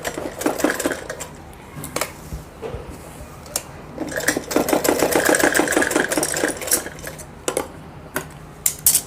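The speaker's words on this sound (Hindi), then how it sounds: "यहाँ पर भी 2 सिलाई लगाएंगे।" A sewing machine stitches a Patiala salwar in short bursts of rapid, rhythmic needle chatter, close and moderately loud, separated by pauses with handling clicks and faint speech.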